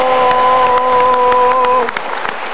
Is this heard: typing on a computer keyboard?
no